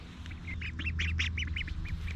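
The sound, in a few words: ducks quacking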